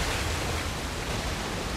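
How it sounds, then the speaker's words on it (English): Steady, full-bodied rush of falling water from a waterfall in the jungle setting of Uncharted: Legacy of Thieves, a dense continuous roar with no voices over it. "Another waterfall."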